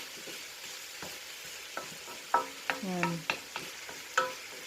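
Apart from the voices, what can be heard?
squash being added to a frying pan for pinakbet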